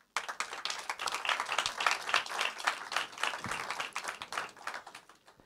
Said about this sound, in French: peut-être vous pouvez les applaudir